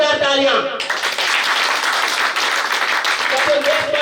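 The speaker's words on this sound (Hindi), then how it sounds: "जोरदार तालियां" Audience clapping at a direct-selling business seminar, a loud sustained burst of applause breaking in right after a speaker's voice, with talk returning faintly near the end.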